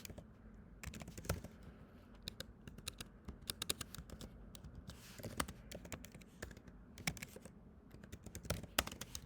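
Code is typed on a computer keyboard in quick, uneven bursts of soft, close key taps with brief pauses, quiet and without any talking.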